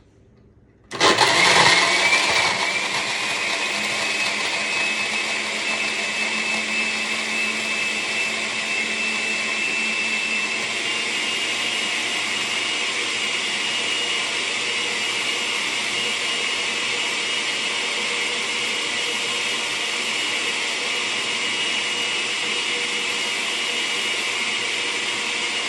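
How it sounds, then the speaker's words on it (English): An electric blender abruptly switches on and runs at steady high speed, churning a cocktail with a big scoop of Cool Whip, its loud continuous whine and motor drone holding unchanged for over twenty seconds with no talk. "you just turn on the blender"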